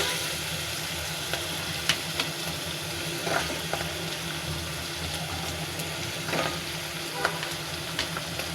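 Flat beans frying with turmeric in oil left over from frying fish, a steady close sizzle with sporadic clicks and scrapes of stirring.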